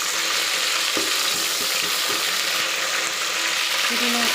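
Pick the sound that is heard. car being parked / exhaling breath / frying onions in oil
frying onions in oil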